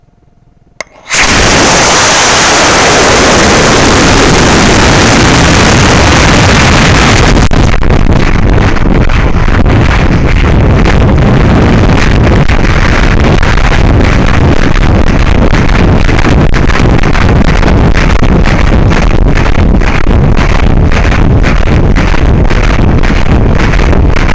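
An F-50 motor ignites abruptly in a 50 mm wide 3D printed rocket, a sudden loud roaring blast after a quiet moment, sustaining a harsh, crackling thrust that stays loud and close for the rest of the stretch.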